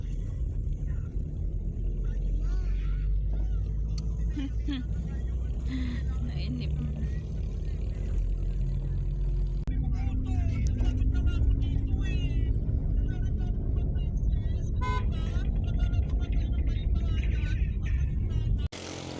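A car driving along the road to a resort, giving a steady low engine and road rumble that runs throughout beneath ongoing talk.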